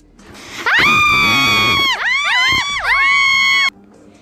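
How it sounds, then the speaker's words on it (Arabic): Children screaming and shouting together, loud high-pitched cries in three long bursts with brief dips between, then stopping abruptly. "ايه الصوت ده؟ ده صوت العيال"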